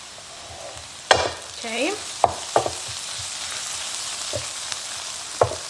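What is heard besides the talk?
onion frying and being stirred in a pan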